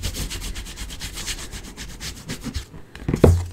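Paper being rubbed by hand along a tiny stamped border on a Stampin' Up! Country Flowers card gives a close, continuous scratchy friction that goes on steadily for a few seconds and ends with a brief louder knock.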